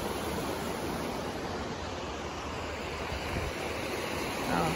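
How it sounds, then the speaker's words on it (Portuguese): A waterfall in Canyon Glen Park, Provo, Utah, rushes with an even, unbroken roar of falling water, heard fairly close with no pauses. "hoje sentamos aqui, próximo da cachoeira, para relaxar, ouvir o som da cachoeira"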